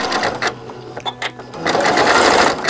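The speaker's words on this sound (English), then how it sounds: "now we're going to go ahead and stitch this all the way out" A sewing machine stitches through coiled rope for an embroidered rope bowl, a loud close mechanical whir running in short bursts with a brief pause in the middle.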